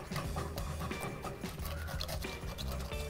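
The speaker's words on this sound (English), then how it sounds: "So I'm just scraping it with my wooden spoon." A wooden spoon scrapes steadily at burnt-on food in an enameled cast iron skillet simmering over medium-high heat, a continuous close scratching that runs the whole time.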